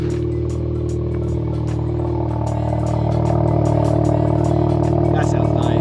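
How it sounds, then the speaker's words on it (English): A Volkswagen MK7 GTI idles steadily after a cold start on an icy winter day, a loud, close, even engine drone with regular clattering ticks and a slight rise in revs near the end. "Let's start this vlog off with a cold start."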